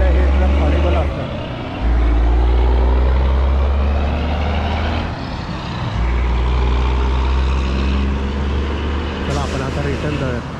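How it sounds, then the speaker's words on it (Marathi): A steady, loud low-pitched roar of trucks passing on a highway, with engine rumble swelling and easing as vehicles go by and a faint beeping in the mix. "हायवेला हे ट्रक हॉरिबल असतात"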